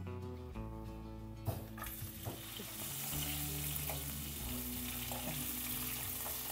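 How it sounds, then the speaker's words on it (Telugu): Mustard seeds, cumin and green chilies crackle and sizzle in hot oil in a pot on the stove for a sambar tempering, with a loud sizzle and sharp pops and clatters as they hit the oil, steady throughout. "ఇప్పుడు గిన్నె పొయ్యి మీద పెట్టుకొని తాలింపు వేస్తాను."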